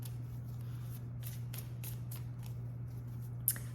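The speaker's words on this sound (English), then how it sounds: "We've been shuffling a while." A deck of cards is riffled and shuffled again and again in quiet, soft crisp bursts repeating at a steady pace over a low electrical hum, with one sharper snap near the end.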